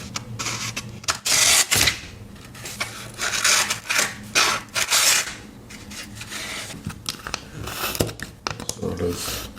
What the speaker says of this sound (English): So easy to sharpen.